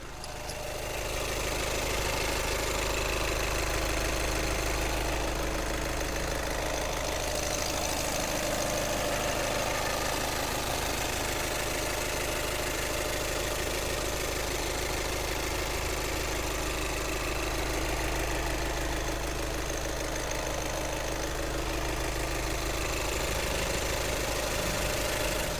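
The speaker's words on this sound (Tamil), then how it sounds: "வண்டியோட இன்ஜின் நாய்ஸ் எப்படி இருக்குன்றத மைக்கை பக்கத்தில் வச்சு காட்டுறேன்" A Volkswagen Jetta's 2000cc diesel engine idles steadily, recorded close up with a low, even rumble and faint clatter holding constant throughout with no talk.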